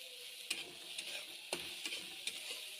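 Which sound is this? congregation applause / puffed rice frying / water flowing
puffed rice frying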